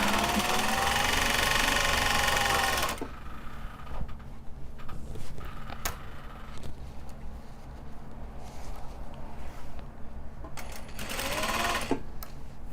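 A sewing machine runs loud and steady at first, then drops to a quieter hum with intermittent light mechanical sounds and a brief renewed burst near the end, with no talking.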